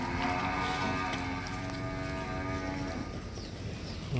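A cow gives a long, loud, sustained moo close by, steady throughout with a rough edge near the end.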